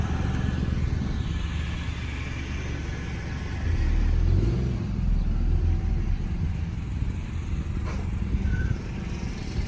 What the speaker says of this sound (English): go hit the brakes and then reverse